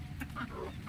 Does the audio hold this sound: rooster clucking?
yes